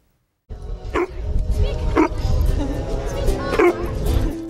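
Dogs bark on a campus plaza, with a few sharp woofs and yips spaced about a second apart rising over crowd chatter and people talking nearby.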